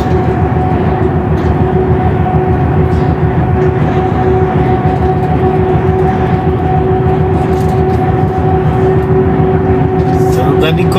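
Heavy trucks travel in convoy on the BR-365 highway in western Minas Gerais, with a loud, close, continuous engine rumble and drone throughout that drowns out everything else.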